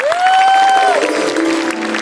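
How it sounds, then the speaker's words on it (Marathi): Audience applause in a Marathi comedy stage show, a steady patter sitting under a loud sustained musical tone that bends downward partway through. "एकदा जोरदार टाळ्या झाला पाहिजेत."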